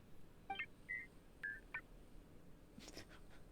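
Several short electronic robot beeps in the Genshin Impact video game, a quick chirping cluster near the start followed by single tones and a final pair, faint and isolated with a soft hiss behind them.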